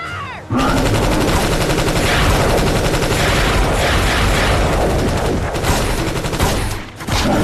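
Sustained heavy gunfire from a monster action movie scene, a dense continuous fusillade of rapid shots that starts abruptly, runs loud and nearly unbroken for several seconds, then briefly dips before resuming.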